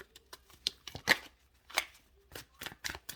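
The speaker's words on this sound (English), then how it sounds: "These cards are shuffling a little bit awkward." Tarot cards being shuffled awkwardly in quick, irregular bursts of crisp riffling and flicking, close up, with brief pauses between each burst.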